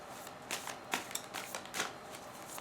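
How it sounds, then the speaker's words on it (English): Large Druid Craft tarot cards are shuffled by hand in a steady run of soft riffling flicks and papery slaps, close to the microphone and with no one talking. "These are big cards to shuffle, these Druid Craftsmen."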